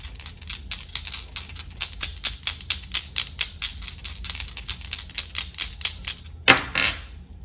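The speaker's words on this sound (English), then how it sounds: "let's roll the Astro dice." Astrology dice rolling: a rapid, even run of crisp clicks, loud and close, ending in one sharper clattering knock as they settle.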